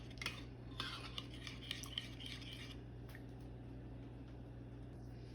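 A spoon clinks against a bowl while sauce and mustard paste are mixed for a cheesy zinger-style dish, with soft, irregular taps and scrapes, close and fairly quiet over a steady background hum.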